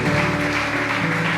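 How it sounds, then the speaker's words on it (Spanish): A church congregation applauds, a thick, continuous wash of clapping mixed with sustained music tones, loud and unbroken for a brief moment. "Le damos un fuerte aplauso al Señor,"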